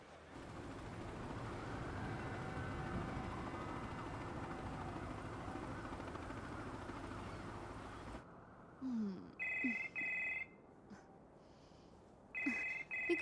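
A telephone rings in a Bollywood action film scene: after a stretch of low rumbling noise, several clear, loud ring bursts sound in an evenly spaced pattern, with no voices over them.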